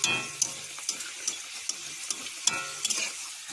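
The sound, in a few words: luchi frying in hot oil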